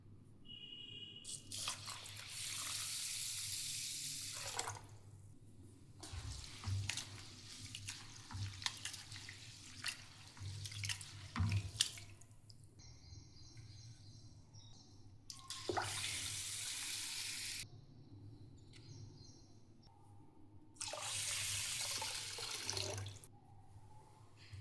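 Rice being washed in water in a home kitchen, with several bursts of running tap water and sloshing, splashing stirring between them, separated by quieter pauses of close handling.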